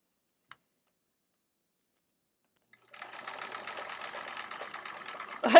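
A domestic sewing machine starts after a near-silent pause and runs steadily during free-motion quilting of a chevron quilt, giving a fast, even mechanical rattle at close range.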